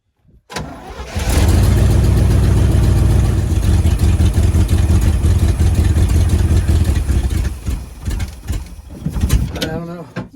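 A 1977 Chevy C65 oil rig truck's engine fires up after sitting for decades and runs loud and rough at close range, with a steady heavy drone that wavers near the end as the revs shift.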